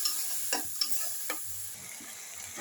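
Spices, grated ginger and a splash of water are sautéed in a pan, a quiet fry with scraping stirs and a few light taps early on, fading to a gentler bubbling; no voices.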